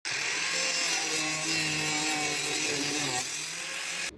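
A power tool cuts a patch of steel for a car sill repair, a loud, close, continuous grinding whine that runs steadily for about four seconds and then cuts off.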